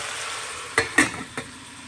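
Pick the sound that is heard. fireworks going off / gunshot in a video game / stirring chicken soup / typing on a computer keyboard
stirring chicken soup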